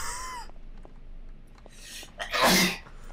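A single loud sneeze bursts out near the end after a faint gasp-like intake, set against quiet game ambience in a horror map in Garry's Mod.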